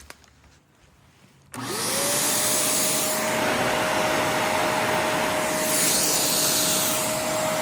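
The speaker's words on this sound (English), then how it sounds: "a used Navigator lift-away floor nozzle off of a junker vacuum" A used Shark Navigator Lift-Away floor nozzle, taken from a junker vacuum, starts up after a quiet moment and runs with a steady loud whine and broad airy roar that holds to the end.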